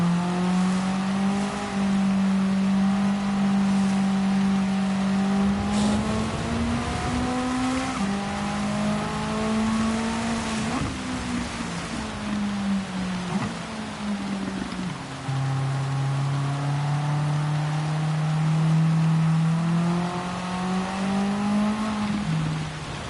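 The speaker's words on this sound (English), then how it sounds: "Nurse the car around this final time." A 1983 Toyota Corolla race car in a three-hour Group A endurance race at Spa, its engine droning loud and close with steady pitch sweeps as it accelerates and lifts through corners, continuous with no talk.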